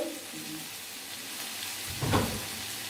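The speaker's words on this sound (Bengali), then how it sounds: "চিনিটা দিয়ে একটু নাড়াচাড়া করে নিল" Sugar stirred in a frying pan with fried vegetables, a low sizzle with a brief louder scraping stir near the end, faint and close, with a little background voice early on.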